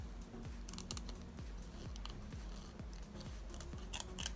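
Small scissors snipping out card pieces, a rapid even series of close, crisp cuts repeating roughly twice per second with faint papery rustle between them, no voices.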